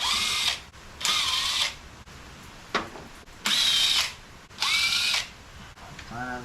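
A power drill or impact tool spins bolts out of a 1976 Chevy LUV engine, loud close bursts of whirring motor, five main runs about a second each with short pauses and a brief blip between, ending on a rising spin-up.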